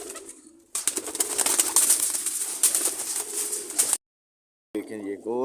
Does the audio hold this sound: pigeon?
yes